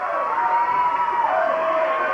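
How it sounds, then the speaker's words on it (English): A wrestling arena crowd at a 1985 Memphis show roars and cheers in a continuous, dense wash of many voices, loud and steady throughout. "What a crowd loving it."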